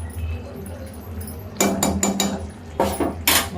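A lid set onto a pot of simmering potato-tomato curry: a cluster of close metallic clanks and clinks as it is shifted into place, over a low steady kitchen hum.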